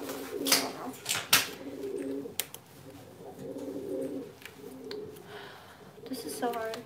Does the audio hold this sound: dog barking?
no